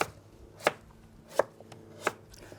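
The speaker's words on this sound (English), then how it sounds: "So I'm just going to slice these really thin." A knife cuts thin potato slices on a board, four crisp, evenly spaced chops about two-thirds of a second apart, close and clear against a quiet background with no talk.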